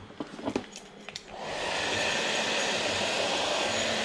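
Heat gun switches on after a few light handling clicks and blows a steady, loud broadband roar of hot air, used to stretch and shrink MonoKote film covering over the wooden frame of a new RC airplane.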